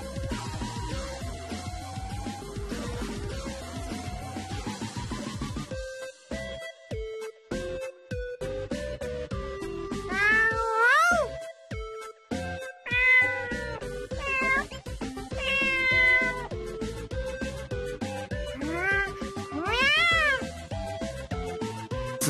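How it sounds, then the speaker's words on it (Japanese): A cat meows several times in the video game Tokyo Mirage Sessions, rising mews standing out over continuous background music. "翼のやつ、猫と会話してる"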